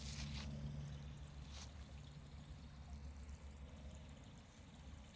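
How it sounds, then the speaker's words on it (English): Quiet, continuous trickling of water running down a shallow pavement channel in Canberra, Australia, with a low hum of outdoor background and no talking. "Water's flowing down."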